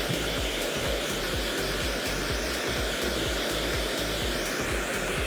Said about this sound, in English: So I'm going to dry the hair.